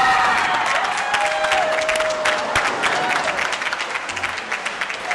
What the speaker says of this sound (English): Hey, are they cheering for me?